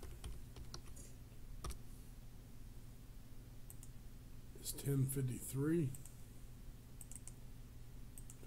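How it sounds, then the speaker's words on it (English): Someone types live on a computer keyboard, producing faint scattered clicks with a few louder taps, while a voice speaks briefly midway. "I'm gonna type live."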